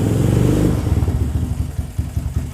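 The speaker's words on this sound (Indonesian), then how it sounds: "Ini knalpotnya. Karena mesinnya itu udah up ya, suaranya jadi begini" An upgraded 250cc Honda CB motorcycle revs through its exhaust close by, starting with a loud sustained roar and then breaking into a rapid, choppy series of throttle blips and pulses.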